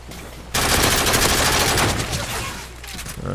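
A dense, loud burst of rapid automatic gunfire fills nearly three seconds of Modern Warfare 3 Face Off play, starting abruptly after a short quiet moment.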